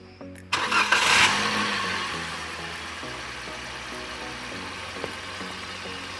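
A 2021 Toyota Avanza, just fitted with a new ignition coil, cranks and fires up, then revs briefly and settles into a steady idle, loud and close with no talking.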